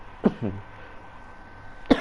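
Two sharp coughs come close together, followed after a pause by a third, loud and near to the microphone over a quiet background hum.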